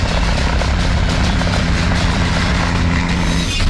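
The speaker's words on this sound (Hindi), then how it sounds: "पुंछ के 20 किलोमीटर के दायरे में ड्रोन और हेलीकॉप्टर लगातार गश्त कर रहे हैं" Patrolling helicopters roar loudly and steadily with a dense rotor and engine drone, continuous throughout with no speech.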